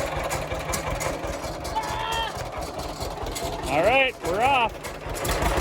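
A John Deere H tractor engine idles and chugs with a steady low rhythmic putter, close and loud, while people talk over it.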